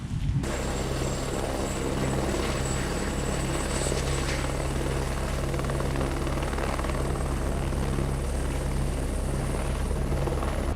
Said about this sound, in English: I'm gonna get this drone home